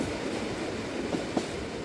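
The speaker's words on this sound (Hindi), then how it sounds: "एक छोटे से कस्बे दियापुर के करीब रेल पहुंचने वाली थी" A passenger train rolls at night as it nears the small town of Diyapur and slows for the station, a steady low rumble with a couple of faint clacks, no voices.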